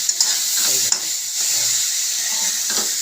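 Soybean and potato curry ingredients frying in a pan, a steady close sizzle with occasional stirring scrapes and soft clinks, no talking.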